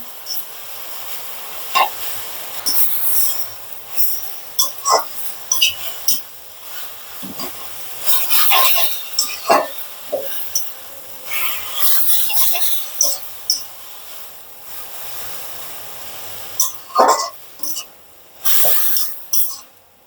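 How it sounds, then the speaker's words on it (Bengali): Jute leaves (pat shak) fry in a pan with salt and are stirred, giving a steady sizzle broken by repeated scraping and rustling strokes of the spatula, loud and close throughout. "লবণ দিয়ে আবার ভালো করে নেড়ে চেড়ে নিচ্ছি।"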